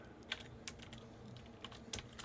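Typing on a computer keyboard while writing a song, a sparse run of quiet, close key taps with uneven pauses between strokes.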